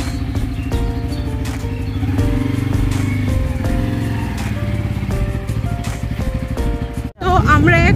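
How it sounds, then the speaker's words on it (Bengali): Motorcycle riding out from a garage through a residential neighbourhood, its engine note running steadily and close, rising and falling slightly, with an abrupt drop near the end followed by a brief tonal sound. "তো আমরা তো বাইক নিয়ে যাচ্ছি"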